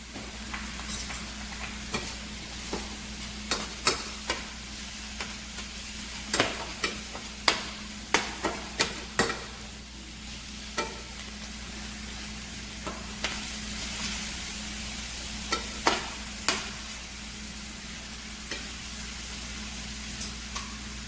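Spinach wilting in a pan with black pepper and herbal seasoning, a steady soft sizzle broken by frequent sharp clicks and scrapes of stirring, close and continuous with no talking.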